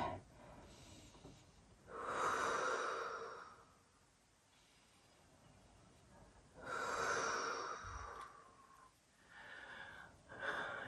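Slow, audible breathing during a hamstring and quad stretching workout: two long, airy breaths close to the mic, then shorter breaths, over a faint room background with no talking.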